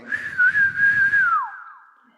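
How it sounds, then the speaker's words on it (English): A single clear whistle rings out, a long sustained note that wavers slightly, then slides downward and fades away, close and loud with no speech. "a real whistle"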